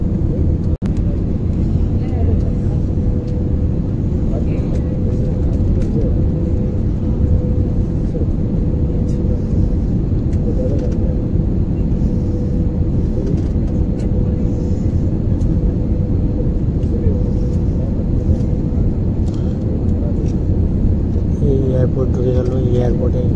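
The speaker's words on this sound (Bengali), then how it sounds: "এয়ারপোর্টে ল্যান্ড করছে ফ্লাইট। ধীরে ধীরে ধীরে ধীরে নামছে নামছে।" An airliner descends to land at Bangkok airport after a four-hour flight, heard from inside the cabin as a loud, steady engine roar and rumble lasting throughout.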